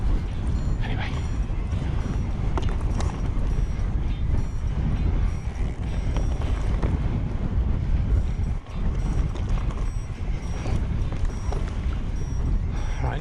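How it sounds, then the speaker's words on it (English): Strong wind buffets the microphone near a mountain top in Snowdonia during an electric mountain bike ride on an Orbea Wild FS M10, a steady, loud roar with gusty rumble throughout. "Wind's getting up now."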